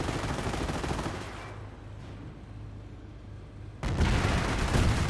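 Machine gun fire and battle noise from a Company of Heroes match, a steady rattling din that dips quieter for a couple of seconds and then jumps back to a louder, denser burst.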